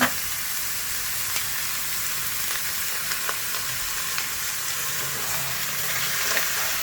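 Squid for adobong pusit sizzles and fries in a pan, a steady close hiss dotted with small crackles and pops, with no voices.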